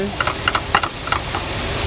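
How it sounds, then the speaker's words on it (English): A pot of water with a bouillon cube boils on a stove inside a camper van, with close, irregular bubbling pops and clicks over a steady steamy hiss. "The water is boiling."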